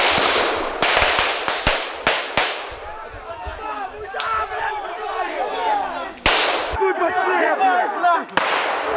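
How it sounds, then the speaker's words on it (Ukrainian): Several sharp gunshots crack in a burst, followed by shouting voices and further isolated shots, loud and close, during a shooting in Mukachevo, Ukraine. "Стрілянину розпочинали аж тричі."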